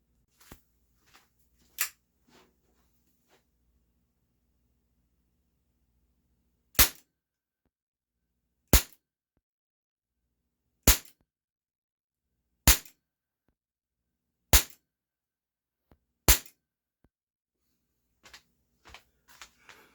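A Walther PPS airsoft pistol by Umarex fires ASG Blaster BBs: seven sharp, close, isolated cracks spaced about two seconds apart in an otherwise quiet space, with faint handling clicks before and after.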